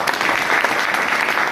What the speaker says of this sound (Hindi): उसके लिए जोरदार ताली हो जाए।